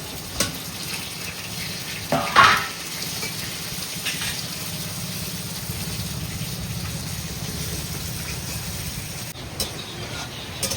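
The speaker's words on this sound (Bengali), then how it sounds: "এক পাশে মাছ ভাজা হচ্ছে আর এক পাশে পাতায় মাছ ভাজা বসাইছে" Fish fries in a pan with a steady, moderate sizzling hiss, a few louder splashes and clatters near the start.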